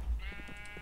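A Minecraft sheep bleats a few times in quick succession, close and clear, with faint game noise underneath.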